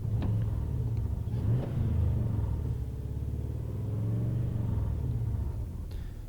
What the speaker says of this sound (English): Nice sounding engine.